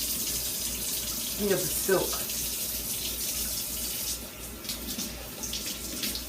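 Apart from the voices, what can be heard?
tap water running while rinsing corn silk off the cob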